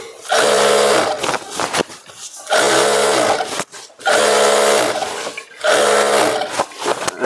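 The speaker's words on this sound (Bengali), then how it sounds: "সেলাইটা মেরে নেব।" Sewing machine stitching fabric for a Patiala outfit, running loud and close in four steady bursts of whirring stitches separated by short pauses.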